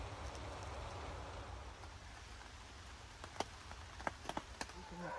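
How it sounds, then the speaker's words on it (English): Steady light rain falls outdoors at a hilltop campsite, a soft continuous patter with a few sharper drops landing close by toward the end. "What is it, starting to rain again?"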